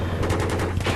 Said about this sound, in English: the 30mm cannon on this thing is a monster